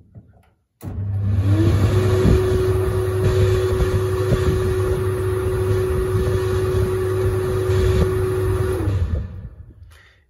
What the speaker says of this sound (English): I can run the dryer up with the door open quickly, just for a demonstration.